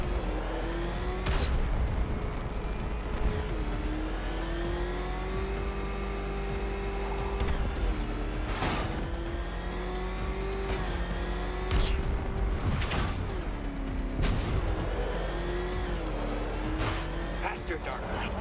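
Batmobile engine in Batman: Arkham Knight drones and revs steadily through a fast drive, with bursts of acceleration and thumps of impact, while a voice talks almost continuously over it.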